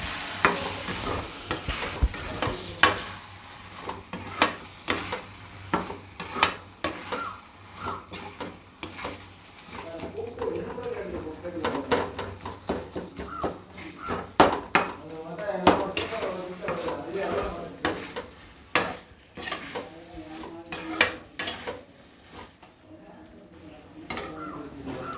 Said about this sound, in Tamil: அந்த பேஸ்ட்டை எடுத்து அந்த வெங்காயம் தக்காளியில் போட்டு நல்லா வதக்கணும்